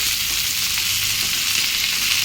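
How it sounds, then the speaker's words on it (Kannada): Tomatoes fry in a pan for tomato chutney, giving a steady, close hiss of sizzling oil with faint stirring scrapes and no voices. "ನಾನು ಫ್ರೈ ಮಾಡ್ಕೊತಾ ಇದ್ದೀನಿ ಇದು ಒಂದು ಐದಾರು ನಿಮಿಷ ಹಾಗೆಯೇ ಮೆತ್ತಗಾಗುವಂತ ನಾವು ಪ್ಯಾನಲ್ಲಿ ಫ್ರೈ ಮಾಡ್ಕೊಬೇಕು"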